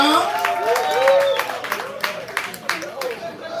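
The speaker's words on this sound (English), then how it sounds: "Make some noise for your poet one time." Audience at a live poetry slam in Houston applauding and cheering a poet after the scores are read, with dense clapping and a few shouts from a lively crowd.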